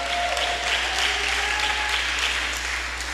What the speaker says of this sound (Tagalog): Yung palakpak nyo ba, ay totoo yan?